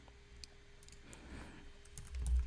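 Computer keyboard being typed on in a software demo, a quiet scatter of light clicks and taps at close range, faint and uneven over a low hum.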